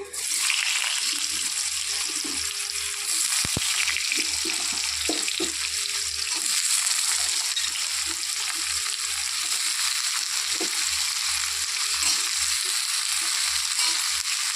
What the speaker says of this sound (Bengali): আলুগুলো আর এক্সট্রা করে ভেজে নিলাম না তো এই তেলের মধ্যে একবারে ভেজে নেব